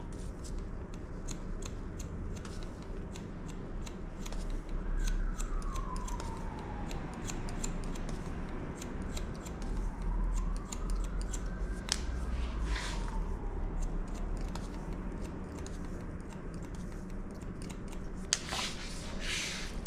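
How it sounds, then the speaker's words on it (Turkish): Scissors cutting hair in a barbershop, with a steady run of quick, crisp snipping clicks lasting throughout, fairly close and moderately quiet, with no talking. "Şimdi böyle makasla kısaltıyoruz gençler buraları."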